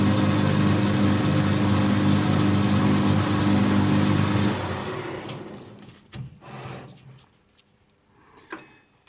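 A 9.5mm drill bit boring through a metal bush on a lathe, a loud steady whirring grind for about four seconds that cuts off, leaving faint clicks and small knocks.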